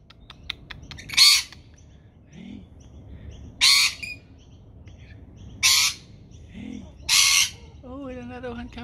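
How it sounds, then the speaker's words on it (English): Several kookaburras calling as they come in for food near Cronulla Bay, four sharp loud squawking bursts spaced a couple of seconds apart over quiet background, with a few softer low calls between. "Here a kookaburra is coming for a feed."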